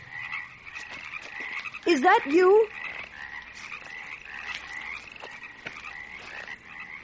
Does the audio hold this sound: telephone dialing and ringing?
no